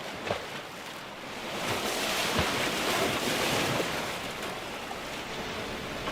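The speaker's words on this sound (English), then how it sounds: "So we've come to the coast, my beloved coast, to do a bit of a wild camp by the sea." Surf washing onto a Yorkshire coastline at a wild camping spot, a steady broad rush of breaking waves mixed with gusty wind buffeting the microphone, swelling slightly in the middle and holding on throughout with no voices.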